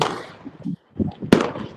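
Fireworks going off during a live display in Spain, with scattered bangs and pops, one sharp loud burst near the end, heard outdoors amid crowd and background noise.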